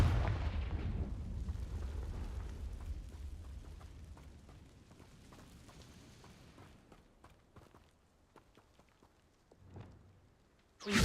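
Fiery Confringo spell blast in a magic video game: a heavy boom at the start that rumbles and fades over several seconds, then scattered crackles and another sharp burst at the very end.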